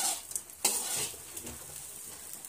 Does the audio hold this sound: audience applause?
no